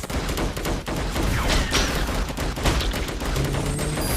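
Dense, rapid bursts of heavy gunfire from an upgraded big gun in the video game Defend Your Life, loud and continuous across the whole stretch with other game noise underneath.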